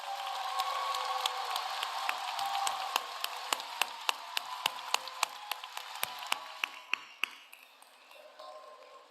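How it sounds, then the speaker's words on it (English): A high school graduation crowd applauds the seniors' parents with sustained clapping and sharp individual claps standing out near the front; the applause thins and fades toward the end. "Graduating seniors, I want you to give your parents a big round of applause."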